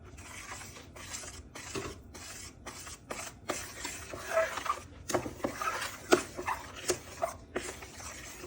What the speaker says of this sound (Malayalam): ഇതെല്ലാം കൂടെ നമുക്കൊന്ന് ഇളക്കി മിക്സാക്കാം